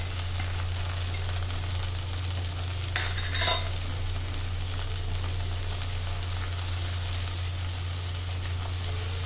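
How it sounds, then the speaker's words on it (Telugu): Gongura leaves frying on a low flame, a steady soft sizzle throughout with a brief stir scrape partway, under a constant low hum; no talking. "సిమ్లో పెట్టి చక్కగా వేయించండి"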